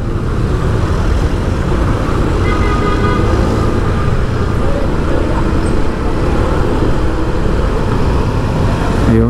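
Dense street traffic in Manila on a mid-morning road, a continuous loud wash of car, bus and truck engines with a brief horn toot, steady throughout with faint voices mixed in.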